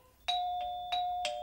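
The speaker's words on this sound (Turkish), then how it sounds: "kapı mı çalıyor" A doorbell chimes in a home scene from a Turkish TV series, three or four bright two-tone dings in quick succession, clear and close with no voices over it.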